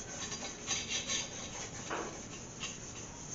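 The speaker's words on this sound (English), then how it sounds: "400 grit sandpaper, or you can use 400 grit 3M pad. This is a lot easier. We're just going to scuff it up a little bit." Paint on a Gremlin body is scuffed with 400 grit sandpaper or a 3M pad, producing soft, irregular rubbing strokes with faint scratchy swishes close by, quiet and without talking.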